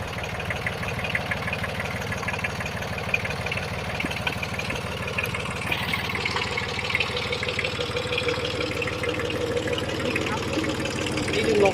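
Kubota 24 hp three-cylinder tractor engine idling, a steady low mechanical chug with faint knocking pulses, close and continuous, with someone talking over it.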